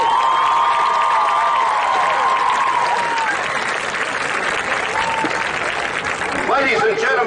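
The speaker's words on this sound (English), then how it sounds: "let's give all of these inductees one more round of applause" A crowd at a high school football game applauds inductees, giving loud, sustained clapping with scattered cheers and shouts, while an announcer's voice carries over the first half.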